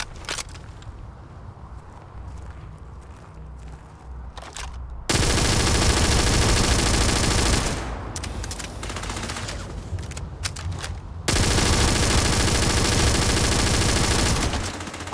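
Gunfire in the video game Starfield: sustained bursts of rapid automatic shots, loud and close, in two long stretches separated by quieter moments with footsteps.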